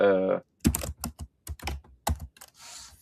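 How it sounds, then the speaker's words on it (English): Short bursts of keyboard clicks and taps come in quick irregular clusters, close and fairly quiet, after a brief voice at the start. "I can hear somebody is typing."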